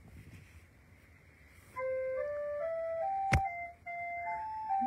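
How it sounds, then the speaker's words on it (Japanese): A recorder plays a short run of clear, sustained pitched notes, stepping up and then down, with a sharp click partway through and a quiet room hiss before the melody begins. "リコーダーのサウンドですよ"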